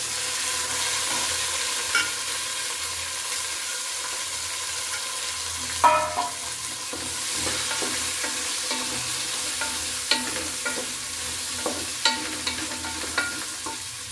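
Beans stir-fried with ginger in a pan give a steady, close sizzle with occasional clinks of a stirring utensil, no voices.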